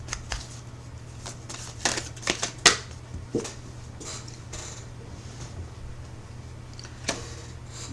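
Tarot cards being shuffled to draw a single card, a run of crisp riffling flicks and snaps clustered near the start with one more later, over quiet room hum.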